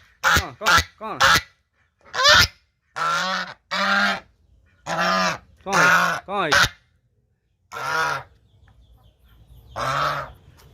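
Geese on a farm at a Kendrapara agricultural science centre honk loudly and close, about a dozen separate harsh calls in uneven bursts with short silent gaps.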